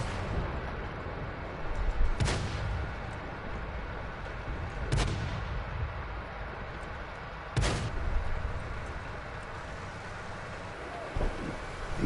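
Tank cannon shots in World of Tanks gameplay, three heavy booming blasts spaced a few seconds apart, then a fainter fourth, over a low rumbling engine and wind bed.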